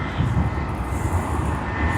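A passenger airplane takes off at Sydney Airport, its engines giving a steady, loud, low roar that holds without a break through the whole moment.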